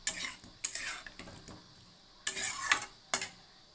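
A metal spoon scrapes and stirs potatoes sautéing in a pan for prawn aloo dum. Five or six sharp, close scraping strokes come in uneven bursts with short pauses between them, and a faint sizzle sits underneath.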